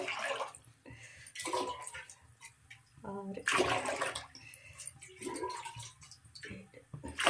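Water is poured in a few splashing bursts, close by, into rice flour for making rice vadiyalu, with a voice talking in between.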